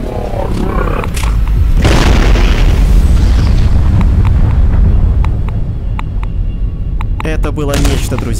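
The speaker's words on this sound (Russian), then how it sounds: "а теперь еще и ядерным взрывом" A nuclear explosion in Garry's Mod DarkRP unleashes a sustained, heavy rumbling roar with deep booming low end, loud and continuous for several seconds, with crackling debris and sharp game sounds near the end.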